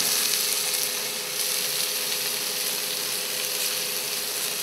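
Peeled onions frying in a pan for a Creole coconut-milk shrimp dish, a loud, steady, dense sizzle with no pauses and no talking.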